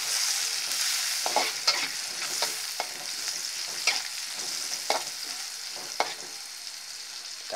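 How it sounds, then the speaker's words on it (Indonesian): Spicy chili spice paste stir-fried in a pan before cassava leaves go in, steady close sizzling punctuated by repeated spatula scrapes and taps at an uneven rhythm, no talking. "Kita osrek-osrek."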